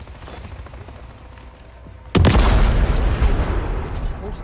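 A helicopter is blown up by explosives in the Call of Duty Modern Warfare III campaign, with quiet game ambience giving way to a sudden loud blast and rolling, crackling aftermath.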